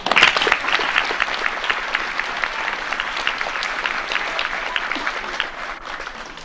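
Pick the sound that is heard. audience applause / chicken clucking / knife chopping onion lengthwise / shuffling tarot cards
audience applause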